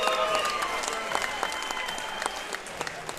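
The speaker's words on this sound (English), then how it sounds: "let's give both these fighters a big round of applause" A crowd at a mixed martial arts event applauds the fighters, a broad roar of clapping with sharp individual claps poking through and a faint murmur of voices beneath.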